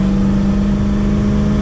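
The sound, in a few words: '71 Mustang 351 Cleveland engine running while cruising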